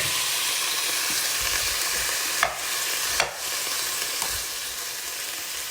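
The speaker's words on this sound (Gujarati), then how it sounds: "તો હવે હું આમાં કોલીફ્લાવર પણ એડ કરી દઈશ." Par-boiled cauliflower sizzles and fries in a hot pan, a constant close hiss punctuated by a few sharp scraping strokes of a spoon as the pieces are stirred, with no talking.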